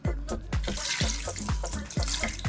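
Water pours into a cooking pot of cumin-spiced lamb with tomatoes in a rapid, gurgling series of splashes and glugs, close and fairly quiet, with no talking.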